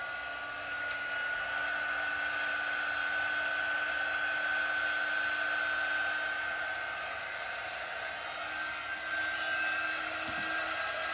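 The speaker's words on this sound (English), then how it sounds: "You can use a hair dryer or you can use our quick dry tool" A hair dryer blows steadily and continuously to dry ink on a chalk-paint stencil project, a constant mid-level whirring hum with no breaks.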